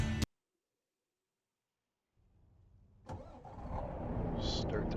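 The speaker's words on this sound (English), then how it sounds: "Start the truck up and get into gear." A semi truck hauling on a long-distance run has its engine cranked to life after a moment of silence, the starter churning before the engine catches and settles into a rising, rumbling idle close by, with a voice heard briefly at the start.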